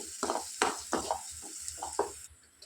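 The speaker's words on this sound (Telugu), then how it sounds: "ఇప్పుడు ఇందులో అల్లం వెల్లుల్లి పేస్ట్ 1 టేబుల్ స్పూన్ యాడ్ చేసుకొని పచ్చి వాసన పోయేంత వరకు ఫ్రై చేసుకోవాలి" Ginger garlic paste, a tablespoon of it, frying and being stirred in a pan of oil, with a steady near sizzle and a few scraping strokes of a spoon.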